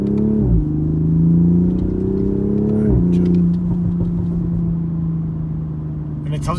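A Toyota Supra MKV GR Launch Edition fitted with a downpipe revs at half throttle, its engine drone rising and dropping in two pulls before settling into a steady, loud cabin rumble with a voice talking over it.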